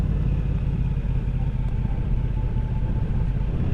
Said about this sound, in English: More to the point, check out the sound of my bike.